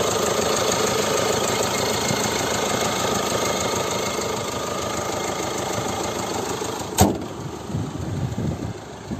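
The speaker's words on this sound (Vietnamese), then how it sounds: "toàn bộ máy dầu nổ rất chi là êm" The diesel engine of a 2007 Hyundai Santa Fe idles with a steady, even hum that holds for several seconds, then drops away after a sharp click.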